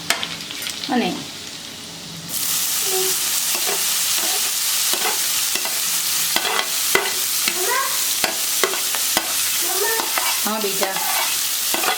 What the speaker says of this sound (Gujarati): હવે આ પાલક છે ને હળદરમાં જ સાંતળવા દેવાની છે.